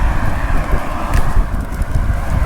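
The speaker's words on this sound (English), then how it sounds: "man, it is windy out." Steady wind buffets and rumbles across the microphone outdoors on Mo'orea, Tahiti, a loud, continuous blustery roar with no other sounds standing out.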